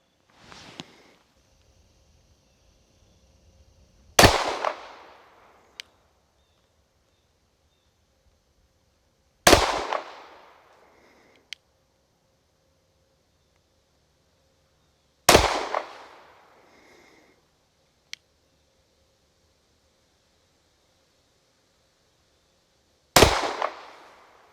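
Four sharp pistol shots from a Mossberg MC2sc loaded with 115 grain jacketed hollow point ammunition crack out at an outdoor range, spaced several seconds apart, each a loud bang with a short ringing tail and a faint click between them.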